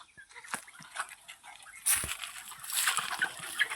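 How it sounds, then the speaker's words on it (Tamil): Native country chickens in a farm shed cluck in scattered bursts, mixed with splashy rustling and shuffling noises nearby, growing busier toward the end. "உள்ளே நாட்டுக்கோழி தான் இருக்குது."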